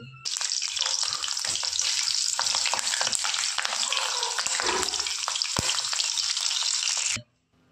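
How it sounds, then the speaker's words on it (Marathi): Green chillies deep-frying in hot oil after a batch of spinach pakoras, giving a loud, steady broadband sizzle with bubbling and occasional stirring clinks, running continuously for about seven seconds before cutting off. "आता आपण भाज्यांसोबत खाण्यासाठी मिरच्या तळून घेऊ।"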